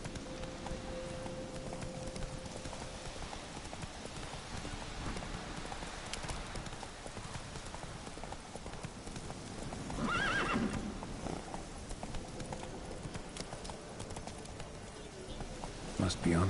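Roach, the horse in The Witcher 3, gallops with steady clip-clop hoofbeats and lets out a neigh partway through, while birds chirp faintly and a voice speaks over the game sounds.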